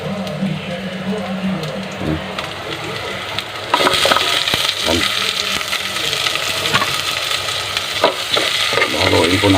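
Onions fry in a pan and are stirred, first a moderate sizzle with scraping, then a louder, denser crackle from about four seconds on, with a spoon rasping against the pan.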